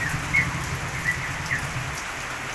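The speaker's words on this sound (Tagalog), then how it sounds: "Kailan matapos ng ulan?" Heavy rain from Typhoon Emong pours steadily and close, a dense hiss with a few louder drop patters, no voices.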